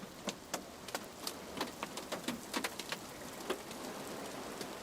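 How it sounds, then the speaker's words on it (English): Hail in the video game Minetest patters down in sharp, irregular ticks, like pellets striking metal, scattered and fairly faint over a soft hiss with no voices. "Is that hail? And is it going to hurt me?"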